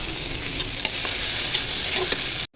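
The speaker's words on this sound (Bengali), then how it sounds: "আদা রসুন ভাজা হয়ে গেছে" Ginger-garlic paste sizzles steadily in hot oil left from frying onions for a hilsa fish bhuna, with a few stirring scrapes, loud and continuous before cutting off abruptly.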